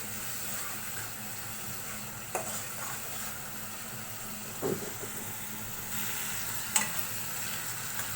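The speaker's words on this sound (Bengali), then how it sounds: "এই মশলাটা ভালো করে কষিয়ে নিব।" Spice paste frying and being stirred in a pan while cooking lentils with shrimp and taro stolons, a steady sizzle broken by a few sharp scraping knocks of the spoon, no voices.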